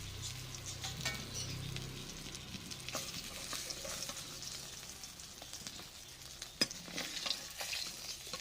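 Fried fish crackle and patter softly in oil, and a utensil stirs and scrapes against the pan now and then, with one sharp knock partway through.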